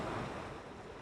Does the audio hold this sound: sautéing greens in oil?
no